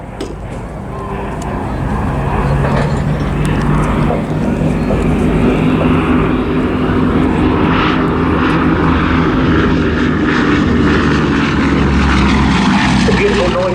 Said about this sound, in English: Beautiful noise of those Mercury engines.